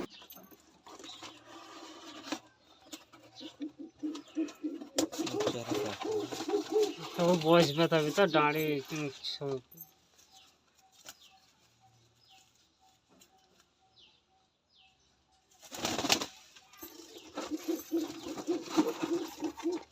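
Pigeons of flying quality, just unboxed after delivery, give soft intermittent coos amid rustling and mechanical clatter, while people talk over much of it.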